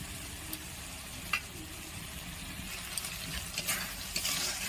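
Sattu sautéed in a pan makes a low, even sizzle with scattered sharp scraping clicks from stirring, getting a little busier toward the end.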